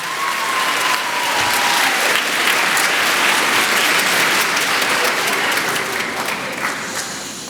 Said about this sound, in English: Please give a round of applause to the amazing Miss Beth McLeod.